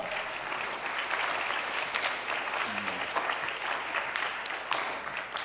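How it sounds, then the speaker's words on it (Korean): Steady audience applause welcomes a professor to the podium at an autumn theology institute academic conference, moderate in level and continuous from start to finish. "큰 박수로 맞아주시기 바랍니다."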